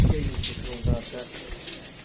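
Flying pigeons coo in short, soft bursts close by, mixed with a low rustle and talking voices throughout.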